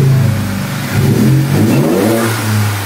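A truck engine revs up and settles in a pair of throaty, rising surges over a steady rumbling idle, close and loud, with no talking.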